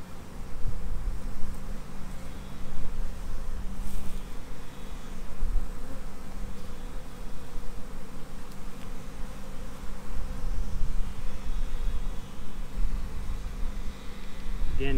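Honey bees buzz loudly and steadily in a dense, close swarm during a sugar shake, a constant droning hum with no talk over it.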